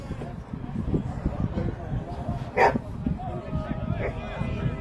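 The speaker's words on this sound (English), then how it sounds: "We've got 2 dogs having a barking competition." Two dogs bark back and forth near an American football pitch during a BAFA Premier Division North match, with sharp yips rising over steady crowd noise and commentary.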